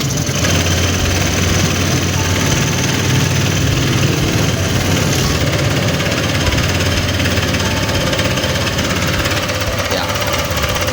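A Honda Click 125 scooter engine idles steadily up close with a constant low drone and a metallic, tinny rattle from a faulty tensioner running throughout.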